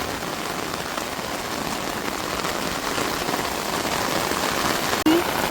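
Heavy rain pours down steadily in a dense, continuous hiss that barely varies, with a brief knock near the end.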